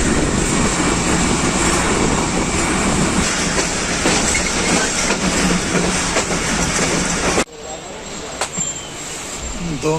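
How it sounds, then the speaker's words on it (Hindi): The Pakistan Express, 46 Down, pulls out of Jhelum station after a two-minute stop, a loud, dense rumble of rolling carriages and wheel clatter close by that cuts to a quieter interior sound near the end. "दो मिनट स्टॉप के बाद जेलम से रवानगी। 46 डाउन पाकिस्तान एक्सप्रेस।"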